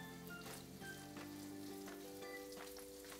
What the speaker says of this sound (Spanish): Dejamos que el chorizo se fría, saque toda la grasita.